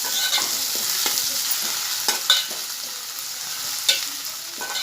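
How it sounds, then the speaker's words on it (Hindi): Chopped tomatoes frying with onions in hot oil, a close, steady sizzle broken by occasional sharp scrapes and clatters of stirring, no voices. "इसे भी मैं प्याज के साथ तेल में भूनकर नरम करूंगी।"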